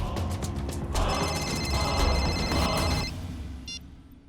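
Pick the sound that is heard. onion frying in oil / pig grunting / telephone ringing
telephone ringing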